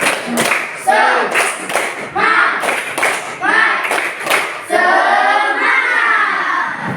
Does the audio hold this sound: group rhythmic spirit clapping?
yes